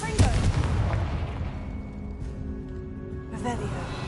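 Confringo fire spell explosion in Hogwarts Legacy: a sharp booming burst at the start that rumbles and fades, followed by a second burst near the end.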